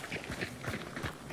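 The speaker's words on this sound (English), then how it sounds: "footstep audio shit. It seems like it's louder than regular jumping and moving." Quick footsteps of a character running in the video game Hunt Showdown 1896, a rapid close run of soft thuds over ambient game background.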